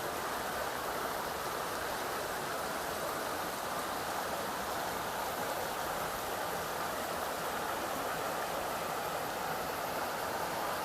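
A creek flows steadily beside a stairway near Anchorage, Alaska, a continuous broadband rush of water holding even and unbroken throughout.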